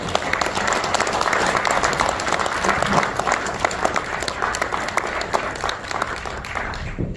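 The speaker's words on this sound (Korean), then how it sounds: "뜨거운 환영의 박수를 보내주십시오" An audience claps warmly to welcome a guest at a Kwanhun Club debate, a loud, sustained round of applause lasting several seconds without pause.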